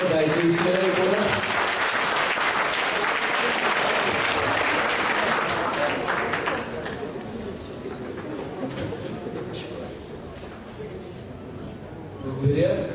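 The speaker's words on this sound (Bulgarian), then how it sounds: "Аплодисменти за колежката, дайте и силен кораж." Applause at a university celebration, loud and steady from a large audience for about six seconds, then thinning to scattered claps, with a voice speaking briefly near the end.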